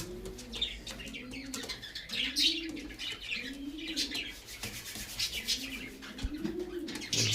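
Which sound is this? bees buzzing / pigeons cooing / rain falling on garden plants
pigeons cooing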